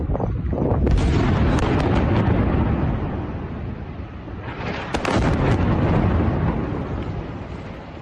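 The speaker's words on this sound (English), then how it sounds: "This is actually a small diameter bomb, a very precision airstrike in the vicinity of that school" A small diameter bomb in a precision airstrike near a school in Beirut, heard as a heavy, sustained booming rumble with a sharp burst around the first second and another loud surge midway, loud throughout.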